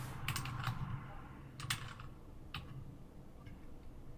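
A file name being typed on a computer keyboard: faint, quiet clusters of quick key clicks in a few short bursts, separated by brief pauses, heard up close in a quiet room.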